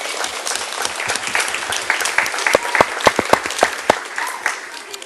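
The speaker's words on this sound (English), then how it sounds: "Can we give a round of applause to the graduates here?" Graduation-ceremony crowd applauding the elementary and middle school class of 2012, a dense, sustained clatter of many hands with sharper individual claps standing out near the end.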